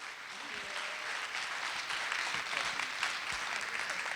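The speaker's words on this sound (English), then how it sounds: "Can we give a round of applause to our panelists?" Audience applause for the panelists at a panel session on youth employment financing, a steady broadband clatter of many hands held at moderate level for the whole stretch, with a faint voice underneath.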